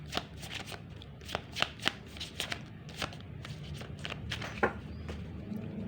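Tarot cards are shuffled and handled in a rapid stream of crisp riffles and soft slaps, with some brief sharper flicks, close by and steady throughout, with no voices.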